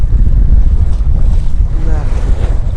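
Strong stormy wind and waves on a reservoir during carp fishing, a loud continuous roar of wind buffeting the microphone over churning water, with faint voices underneath.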